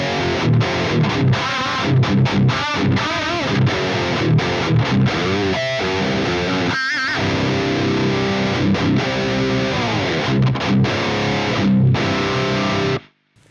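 An electric guitar played through a Softube Amp Room Marshall JCM800 2203 amp simulation plugin gives loud, saturated distorted riffs with chugging palm-muted bursts and short pauses, ending abruptly.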